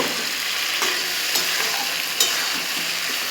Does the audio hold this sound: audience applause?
no